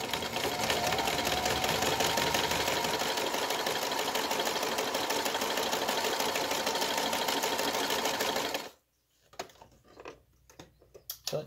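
A sewing machine stitches quilt block pieces with a rapid, even mechanical whir and ticking. It runs steadily for about nine seconds, then stops, and a few quieter handling clicks and bumps follow.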